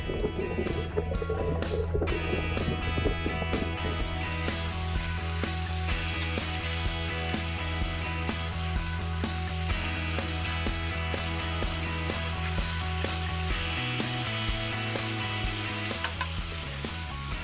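Food sizzling in a pan on a hot camp stove during a Murray cod fishing trip, a steady, continuous frying hiss with faint tonal background sounds running throughout.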